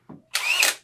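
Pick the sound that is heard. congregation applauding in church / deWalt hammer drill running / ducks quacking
deWalt hammer drill running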